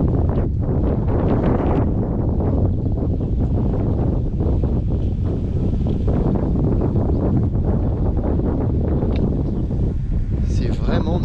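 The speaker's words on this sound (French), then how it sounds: "il y a beaucoup de vent" Strong wind buffets the microphone in loud, continuous rumbling gusts while someone rides an electric unicycle outdoors, with a voice faintly audible beneath the roar.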